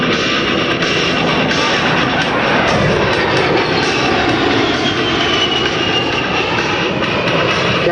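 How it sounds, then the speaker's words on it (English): An A-10C Warthog jet displays at an air show, its engine roar loud and continuous throughout, a dense broadband rush with no pauses. "And now from your left, Captain Green displaying the A-10's rolling maneuverability."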